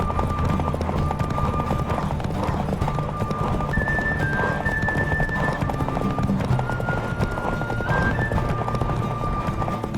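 Rapid, rhythmic hoofbeats of a galloping horse in The Witcher 3: Wild Hunt, close and steady, with a few brief whinnies and a low ambient hum underneath.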